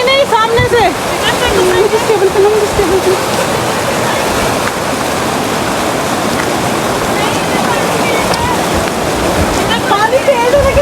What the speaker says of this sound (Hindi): पानी तेज है लेकिन पानी बहुत थोड़ा जगह।